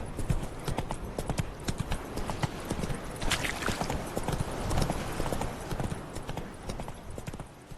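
Galloping hooves of Roach, Geralt's horse in the video game The Witcher 3: Hearts of Stone, a rapid, steady clip-clop that stays loud and close throughout, with no talk over it.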